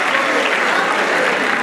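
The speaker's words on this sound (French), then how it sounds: "on les applaudit s'il vous plaît, les applaudit." Dense, steady applause from a comedy show audience in Brazzaville fills the whole moment, loud and close, with a faint crowd murmur mixed in.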